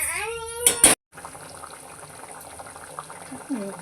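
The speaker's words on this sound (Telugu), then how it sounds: "ఇక ఈ పులుసు అంతా దగ్గరికి పడాలి మంచిగా మరగాలి" Fish curry broth bubbles and simmers in a pot, a steady low boiling hiss after a brief burst of louder noise at the start, with faint clinks near the end.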